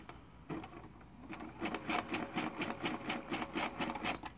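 A Brother SE400 sewing machine starts up and stitches steadily, a close, fairly quiet rhythmic whir and tapping with no talk.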